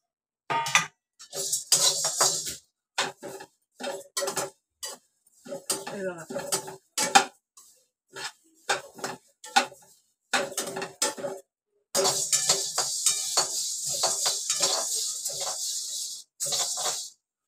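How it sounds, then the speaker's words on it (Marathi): Fennel seeds being dry-roasted in a pan at home for Malvani masala, with repeated close metallic scraping and clinking of a utensil against the pan in short bursts, then a longer continuous rattling stretch. "इथे मी बडीशेप घालते भाजायला."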